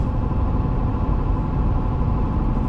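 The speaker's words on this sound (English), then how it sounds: "the front tires are starting to get pretty loud" A 2019 Ford F-350 Power Stroke on 35-inch General Grabber ATX tires cruises the highway, with a steady, loud, low roar of tire and road noise and no talking.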